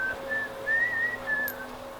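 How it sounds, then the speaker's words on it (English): A person whistles a Christmas tune, a clear, fairly quiet melody of several held and gliding notes, alone without talk. "whistling Christmas song"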